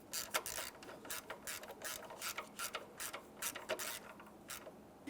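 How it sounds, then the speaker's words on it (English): Torque wrench tightening the bolt on the intake variable valve timing solenoid of a 2008–2017 Mitsubishi Lancer, a quick run of close, crisp ratchet clicks in uneven bursts, fairly quiet. "then I'm going to torque this to 89 inch-pounds"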